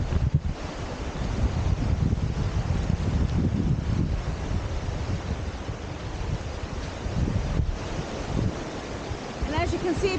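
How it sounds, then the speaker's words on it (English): Small ocean waves at La Lancha beach in Punta de Mita, a steady rushing surf wash mixed with wind noise on the microphone, continuous throughout. "The waves aren't very big, but it's still surfable."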